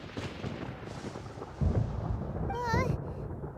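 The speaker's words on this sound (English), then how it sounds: "Paimon hears thunder!" Deep rumbling thunder rolls through a stretch of video-game action, with a louder low boom partway through, a short whooshing effect layered on top, and a voice talking over it.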